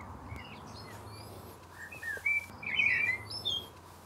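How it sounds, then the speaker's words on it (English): Blackbirds sing in an English vegetable garden in July, with short whistled phrases and chirps that come and go over a quiet outdoor background, growing brighter and clearer partway through. "It's a good job those blackbirds are good singers."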